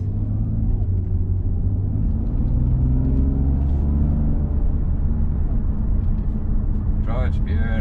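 A BMW M52 engine fitted with individual throttle bodies and an airbox drives on the road. Its low rumble rises and falls with engine speed, heard from inside the car, loud and continuous.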